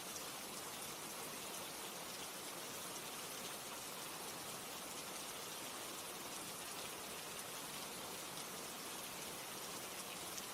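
Steady rain falls without pause, a dense even hiss of drops on surfaces that stays constant throughout with no voices.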